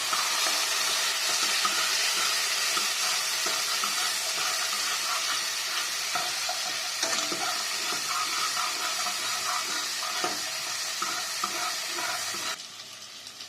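Onion and tomato sauté in a pan for parotta salna with a steady, close sizzling hiss and faint stirring scrapes, continuous throughout with no speech.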